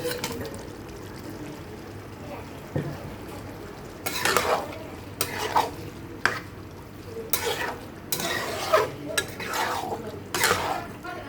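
Fried potato and garlic cloves cooking with mutton mince in a pan, a low steady sizzle at first, then a series of loud scraping stirs against the pan in the second half.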